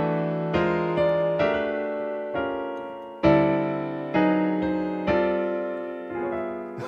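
Piano chords with three moving inner voices ring out one after another, about eight sustained, resonant chords struck at a slow, even pace, each decaying before the next.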